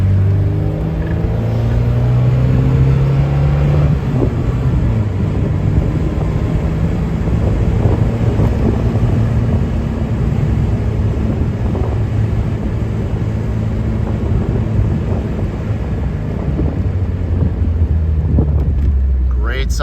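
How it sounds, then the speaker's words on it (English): A 1991 Alfa Romeo Spider Veloce with its factory exhaust drones steadily while driving, a continuous loud engine note with wind rush, shifting pitch as it accelerates. "Great sound out of the factory exhaust."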